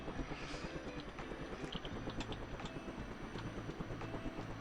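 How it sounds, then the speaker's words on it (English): A helicopter's rotor and engine drone steadily in a helicopter simulation video game, a constant, moderately loud pulsing hum with small clicks and game sounds over it and no talking. "And then I turn the helicopter off to perform repairs."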